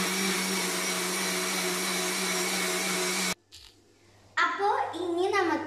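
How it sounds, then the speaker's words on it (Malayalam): A mixer grinder whirs loud and steady while blending a jackfruit seed shake, then cuts off abruptly, followed by a short quiet pause and then someone talking. "നല്ല പോലെ മിക്സിയിലിട്ട് ജ്യൂസ് പോലെ ആക്കാം."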